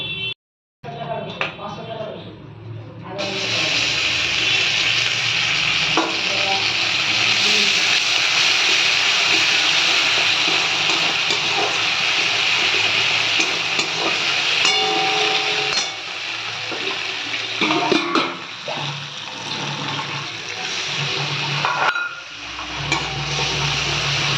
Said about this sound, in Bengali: তেজপাতা আর একটু শুকনো লঙ্কা দিয়ে একটু করে মশলাটা কষে নেব।